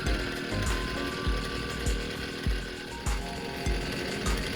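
A petrol strimmer warming up at idle after being restarted, a small two-stroke engine running steadily with a rough, uneven throb and a regular pulse about every half second, close by with no talking.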